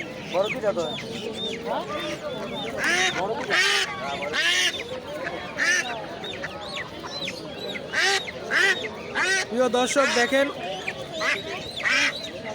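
A crowd of domestic ducks quacks loudly and repeatedly nearby at a wholesale duck market, with honking calls overlapping while someone speaks over them.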